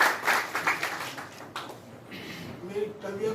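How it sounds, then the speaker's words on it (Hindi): Guests at a 64th birthday celebration clap in a short burst of applause that fades, with voices and room noise continuing underneath. "तो मैं आप सबसे निवेदन करूंगा उनके जन्मदिन पर एक बार उनको तालियों के गड़गड़ाने।"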